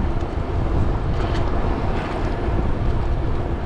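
Steady headwind buffets the microphone of an electric bike cruising around 18 mph with the rider still pedaling, a constant loud low rumble of wind noise filling the whole stretch without voices.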